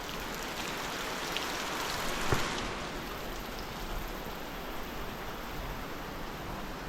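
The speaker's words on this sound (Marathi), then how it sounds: "बस कंटिन्यू पाऊस चालू असा" Steady heavy rain in the Konkan falls continuously, an even hiss of drops with no voices.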